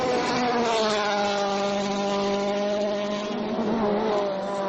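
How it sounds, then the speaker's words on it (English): Petter Solberg's privately entered Citroën DS3 rally car runs hard on a Rally Jordan stage, its engine giving a loud, sustained, slightly wavering drone close by for several seconds, with no talking. "Petter Solberg pushing his privately entered DS3 to the limits over the opening 2 stages today"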